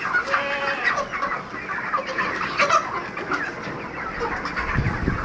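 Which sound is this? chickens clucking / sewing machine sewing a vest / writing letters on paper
chickens clucking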